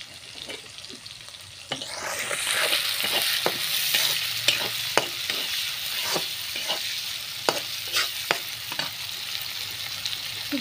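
Garlic and onion frying in a pot on a stove while haleem is cooked, a steady sizzle rising after two seconds and running throughout, broken by repeated sharp clinks and scrapes of a stirring spoon; no talking.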